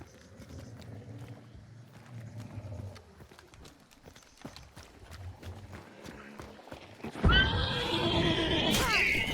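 A horse in a video game whinnies and its hooves clip-clop at a run, moderately loud, followed by a sudden loud burst of splashing or rushing noise near the end.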